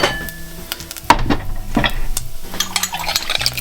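Stock poured into a hot pan over browned beef mince fond, giving a bubbling sizzle with stirring scrapes and light utensil clatter against the pan, close and fairly loud.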